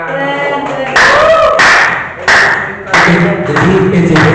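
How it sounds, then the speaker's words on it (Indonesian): Teachers at a junior and senior high school workshop clap in loud bursts separated by short pauses, with voices mixed in among the claps. "Tepuk tangan."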